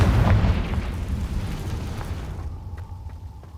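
A Confringo fire spell blasts in Hogwarts Legacy, a heavy close boom with a deep rumble that slowly decays into a fading tail with faint crackles.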